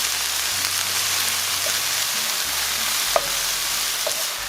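Vegan tofu meat frying in a pan as veggie bouillon is stirred in, a steady close sizzle with soft scraping stir sounds and a couple of small clinks, no talking.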